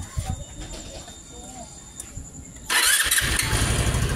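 A Rusi RFI 175 motorcycle engine starts with a sudden roar after a quiet stretch with soft speech and bird cooing, then holds a loud, steady idle close by.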